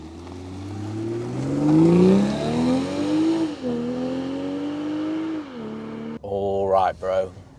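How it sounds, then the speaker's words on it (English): A BMW M340i drives along, its engine rising and falling through smooth gear changes at moderate volume, with a voice speaking over it toward the end. "Calmly, gently driving the M340."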